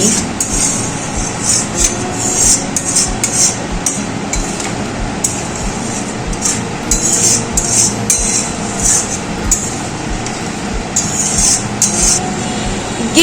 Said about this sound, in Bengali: এবার আবারও নেড়ে চেড়ে নিচ্ছি।